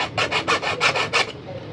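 A hacksaw blade cutting a hole in a plastic lamp holder: five quick, raspy back-and-forth strokes in an even rhythm, close and fairly loud, then a brief quiet tail.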